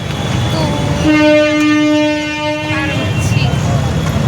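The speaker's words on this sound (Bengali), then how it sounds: "এই দেখো ট্রেন দাঁড়িয়ে আছে।" A train horn sounds a sustained tone for about two seconds at a station amid busy background chatter and rumbling.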